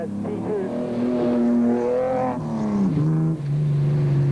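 The Castrol Toyota Land Cruiser rally car of the 2001 Sugarbelt 400 roars at full throttle, a loud sustained engine note that dips as it shifts gear, close and continuous.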